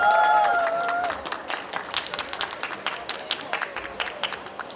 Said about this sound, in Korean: 학생의 연설을 박수로 맞이하겠습니다